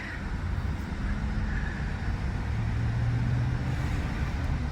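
A truck bought at a dealer auction drives along with its hood open, a steady low engine rumble and road noise rising slightly as it shifts into second gear, close and continuous.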